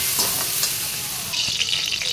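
Food frying in a hot pan with lemon juice and salt added, a dense steady sizzle up close that brightens and grows hissier partway through, a few soft stirring knocks underneath and no speech.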